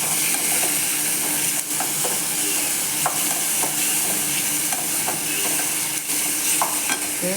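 A paneer gravy for chapati is stirred in a frying pan. The sizzle and bubbling are steady and close, with sharp scraping taps from the spoon now and then and no talking.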